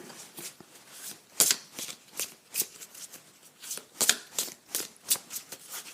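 A deck of cards being shuffled by hand, with a quick series of crisp riffling and flicking bursts close to the listener, repeating in an uneven rhythm with no talk.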